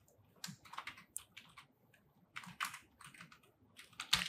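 Typing code on a computer keyboard, close-up with irregular bursts of key clicks separated by brief pauses.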